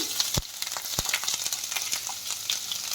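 Ginger and garlic paste sautés in oil in a pan for dhaba-style paneer tikka masala, giving a steady, close frying hiss. Sharp spoon-on-pan clacks from stirring recur several times, with no voices.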